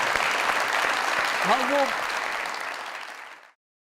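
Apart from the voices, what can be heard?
audience applause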